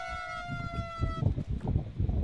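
A wailing ambulance siren tone in Arma 3 rises and holds for about a second before fading under a burst of clattering, shuffling noise.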